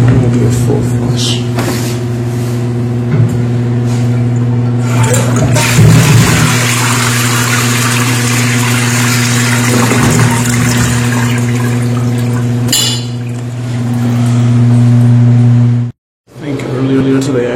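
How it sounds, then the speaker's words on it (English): A toilet given a full flush, with a steady, loud rush of water running continuously under a strong tonal hum, then cutting off abruptly near the end. "I'm going to do a full flush."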